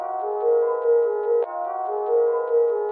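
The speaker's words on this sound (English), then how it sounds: "First way is making some kind of like rapid piano" A rapid piano melody for a dark UK drill beat, sustained tonal notes repeating in a quick looping pattern, clear and steady with no voices.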